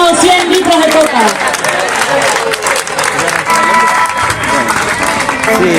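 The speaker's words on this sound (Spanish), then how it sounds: "Un aplauso para los trabajadores de Coca-Cola que han donado 100 litros de Coca." Loud clapping and cheering from a crowd at a workers' solidarity festival, saluting Coca-Cola workers, with voices and shouts mixed through the noisy, close applause.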